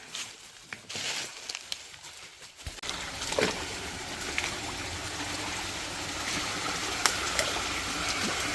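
Water rushes and trickles steadily in a natural forest stream in Kanchanaburi, Thailand, a continuous outdoor wash with a few faint knocks and rustles nearby.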